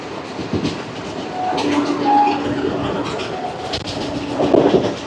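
Tirupati–Kakinada Town Express running past Bhimadolu station in rain, a continuous onboard rumble with clickety-clack of wheels and faint tonal whines, moderately loud throughout.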